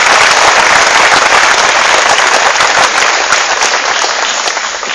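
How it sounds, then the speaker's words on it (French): Loud, dense applause from an outdoor political rally crowd at a farm gathering, continuous crackling claps that stay strong and fade slightly toward the end. "Je vous demande d'applaudir M."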